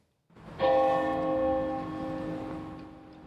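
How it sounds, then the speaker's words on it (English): A deep bell near a town hall rings once and its chime hums on, slowly fading over a soft outdoor background. "A bell chimed 97 times near the town hall"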